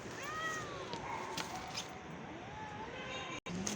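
A stressed mother cat meows insistently at her kittens, rising and falling cries up close over soft background rustle, with a brief dropout near the end.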